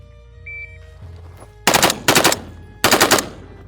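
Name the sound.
gunfire from Delta Team Tactical FRT-15 L3 rifle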